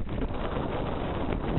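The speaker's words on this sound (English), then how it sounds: "Saw a gust to 27." Steady wind buffeting a microphone aboard a sailboat on Lake Michigan on a gusty day, a continuous loud low roar with no letup and no talk.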